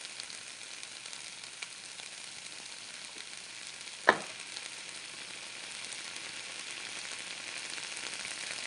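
Green beans cook in a covered pan with salt and pepper, a faint, even hiss of sizzling broken by a single sharp clank midway.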